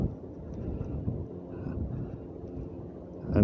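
Strong wind buffeting the microphone above the harbour at Gosport, seen from the Round Tower: a steady low rumble of gusts with a louder surge at the end and no talking.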